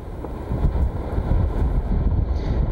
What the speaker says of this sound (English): you can probably hear the winds right now